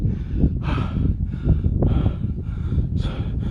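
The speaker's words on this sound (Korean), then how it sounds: "숨소리가 같이 들려" Heavy, labored breathing while climbing a steep volcanic hill on Jeju Island, with repeated loud breaths and exhales roughly every second, close and continuous, with no talking.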